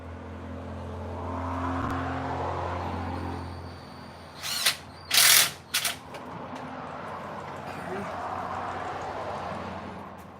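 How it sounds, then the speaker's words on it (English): A power tool works on a car's power steering pump, giving a few short, loud bursts in the middle of the clip over a steady low background hum. "can this power steering pump thing just kind of screw off for a moment?"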